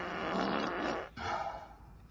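A fart sound effect played by a smart speaker: a fairly quiet, buzzy, sputtering blast with a short break, then a second longer rasp trailing off.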